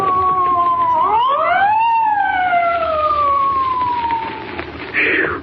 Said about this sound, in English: Spike, there's a police car coming up.